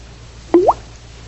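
A single water drip from a leaking faucet, a sound effect in a 1945 radio comedy: one clear, close plop rising quickly in pitch against a quiet background, with no voices.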